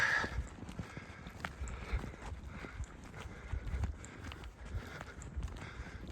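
Hooves clop irregularly on the ground nearby as horses move about, with soft snorts and shuffling, no talking.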